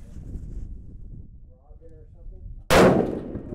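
A single loud rifle shot from a rebuilt Savage 10FP in 6.5mm Creedmoor at an outdoor range, one sharp crack with a decaying tail after a stretch of quiet wind and low background noise.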